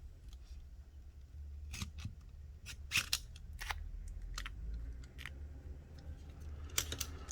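Sharp, quiet snips of a blade cutting adhesive during a Samsung Galaxy S20 FE screen replacement, a few isolated clicks over faint background hum.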